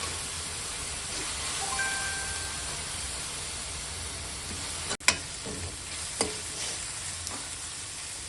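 Fenugreek leaves fry in a pan with a steady soft sizzle and occasional stirring clatter, a few sharp knocks from the utensil against the pan.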